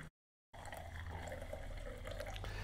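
Soda and tonic pour into a glass for a cocktail, a steady fizzy liquid trickle heard close and faint after a brief silent gap, with no talking.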